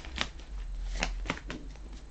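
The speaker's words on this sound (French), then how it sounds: "je vais donc tirer les cartes." Tarot cards shuffled by hand over a low background hum, giving several short, crisp riffling bursts in an uneven rhythm, close and moderately loud.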